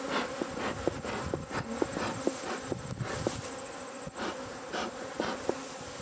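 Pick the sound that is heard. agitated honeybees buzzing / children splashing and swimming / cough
agitated honeybees buzzing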